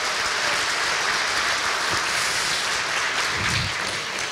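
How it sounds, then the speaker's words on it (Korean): Audience applause at the Roh Moo-hyun Foundation's 2018 year-end gathering, a dense, steady clatter of many hands that fills the whole stretch without a break. "다시 한번 격려의 박수 부탁드리겠습니다"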